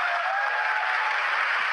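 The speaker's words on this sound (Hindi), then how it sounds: "बजाइए तालियां इनके लिए" Audience applause welcoming new guests at an Amway business meeting in India, a dense, steady wash of many hands clapping close and loud throughout, with no talk over it.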